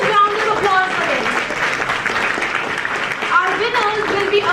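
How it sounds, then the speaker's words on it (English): A moot court valedictory ceremony audience applauds the winners with steady clapping, while a voice speaks over the applause. "A huge round of applause for them."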